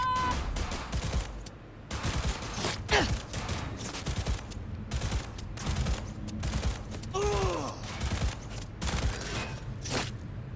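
Rapid bursts of gunfire in the video game Cyberpunk, a busy run of cracks and volleys spread across the stretch with short gaps, mixed with game effects and clangs.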